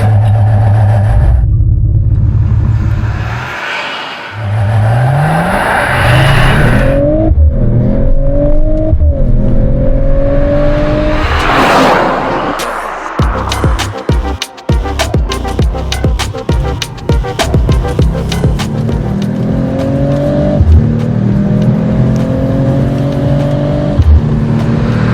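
A Mercedes-AMG CLE53 Coupe engine revs hard on the move, with loud rising and falling pulls, gear changes and a deep rumbling exhaust, heard up close and with no talk.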